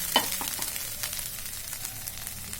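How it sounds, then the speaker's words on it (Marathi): Freshly grated wet coconut is sautéed in a pan for fried modak filling, giving a soft, faint sizzle with a few light scraping stirs near the start. "ओलं खोबरं आहे परतून घेऊया आपण"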